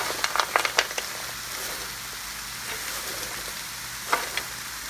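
Frozen vegetables sauté in a Presto foldaway electric skillet, a continuous close sizzle with a few sharp crackles and pops early on and near the end.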